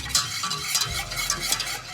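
Roux-based gravy is whisked and stirred briskly in a pan, a close, continuous scraping swish with rhythmic metallic ticks over a faint sizzle.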